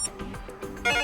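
Alarm tone previewed on a Xiaomi Redmi 3A phone, a short electronic ringing melody with repeated tonal pulses, moderately loud and heard alone.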